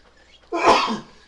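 A single loud sneeze bursts out during a county commissioners' meeting after a moment of near silence, sharp and close, then trails off quickly.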